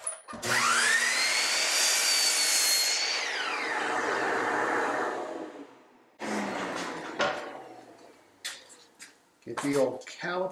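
A miter saw cuts a small piece of wood at a digital fence stop: the motor whines up loudly, the blade bites and slows, then winds down, followed by clicks and handling knocks nearby.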